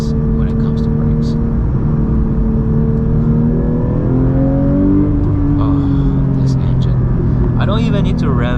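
A manual Porsche 992 GT3 Touring engine revs up through the mid range while driving, a loud steady climbing howl close by, with a voice speaking over it.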